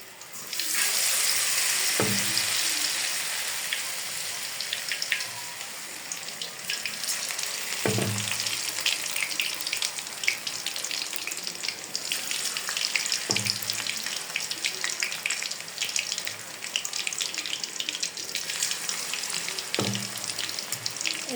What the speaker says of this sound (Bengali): আমি কতগুলো দিয়ে দিতেছি, এগুলো আস্তে আস্তে ফ্রাই হবে।